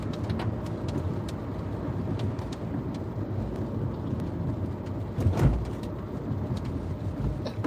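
Steady rain falls outside, a dense continuous wash with scattered sharp drops, and a brief low rumble like a passing car or distant thunder swells midway.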